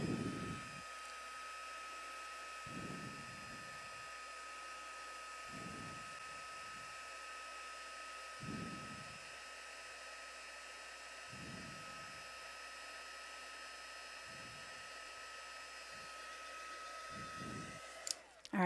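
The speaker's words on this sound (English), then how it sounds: "let's get started with some heating" An electric heat tool blows hot air to melt embossing ink on a stamp impression, a steady close whirring hum that runs unbroken throughout, with faint low thumps recurring every couple of seconds underneath.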